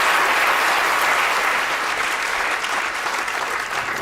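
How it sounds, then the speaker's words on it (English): A roomful of people gives a big round of applause at a science talk, dense even clapping heard alone, holding steady for about four seconds before easing slightly. "Give them a big round of applause for keeping track there."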